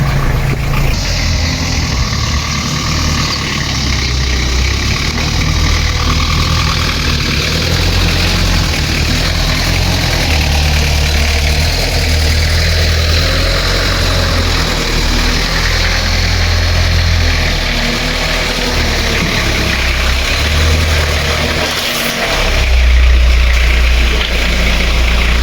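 A Jeep's engine idling steadily while being parked, a loud continuous low rumble that holds throughout with only slight variations and no talking.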